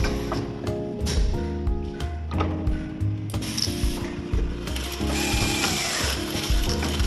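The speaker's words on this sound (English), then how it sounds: "Screw convey and distribute to 4 screwdriver automatically." A multi-axis automatic screw assembly machine with four screwdriver heads, fed by a blow feeder, runs with a dense, continuous mechanical whir and rapid rhythmic clicking, loud and steady throughout, with no speech.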